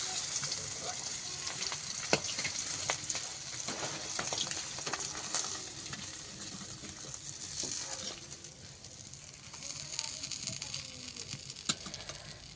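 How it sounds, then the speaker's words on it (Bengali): Continuous oily sizzling and spattering of river fish frying in a hot wok, with occasional sharp pops and a light scrape of stirring. "যে মাছগুলো এখনও ভাজা হয়নি সেই মাছগুলো এখন দিয়ে দেবো কড়াইতে"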